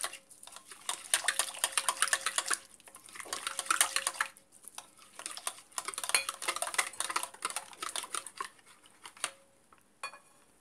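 Wheat and oat flour batter with baking powder being mixed in a bowl, quick irregular clicking and tapping strokes in bursts with short pauses, close and fairly quiet, no talking.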